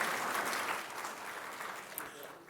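An audience at a city council meeting applauds new elected officials, a brief burst of clapping from a roomful of people that starts full and thins out over a couple of seconds.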